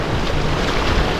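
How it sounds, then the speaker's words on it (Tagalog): Loud, steady roar of sea waves and gusting wind on a windy beach where small shrimp are being sun-dried, a dense wash of noise throughout with no voices. "Tapos maingay yung alon, kaya hindi masyadong matinig."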